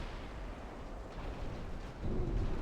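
A torpedo strikes a ship in the naval warfare game Ultimate Admiral Dreadnoughts, giving a deep rumbling explosion that swells louder near the end, low and boomy with no voices over it.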